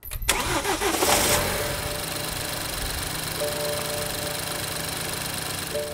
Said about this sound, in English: there's the startup and idle noise for this engine, which sounds, well, like this